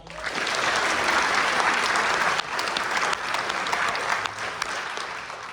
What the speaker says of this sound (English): let you guys give them a round of applause